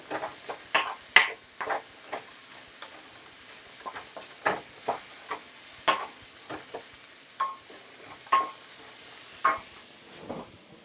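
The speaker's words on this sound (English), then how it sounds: "I can already tell the way it's getting to my eyes just in the frying process here." Cashew shrimp stir fry sizzling in a pan, with steady frying hiss and a series of sharp crackles and spatters spaced irregularly throughout, close and moderately loud, with no talk.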